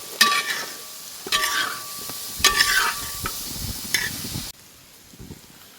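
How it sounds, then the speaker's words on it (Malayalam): Mutton boti masala sizzles in a pan while a spoon scrapes and stirs it in repeated bursts, with louder rasping strokes over a constant frying hiss that quietens near the end. "നമുക്ക് നന്നായി ഇളക്കി കൊടുക്കാം കേട്ടോ"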